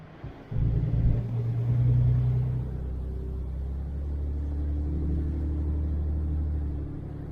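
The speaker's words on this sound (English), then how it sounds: "Cody done caught up with me on his four-wheeler." A four-wheeler ATV engine rumbles low and steady close by in an ice storm, swelling briefly as it pulls in, then idling on without talk.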